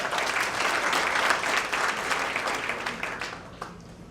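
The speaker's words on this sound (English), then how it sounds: "Ladies and gentlemen, clap it up for our next trustees" An audience at a fashion and arts gala applauds warmly, a broad wash of clapping that starts full and gradually thins and softens toward the end, heard at a moderate distance with no speech on top.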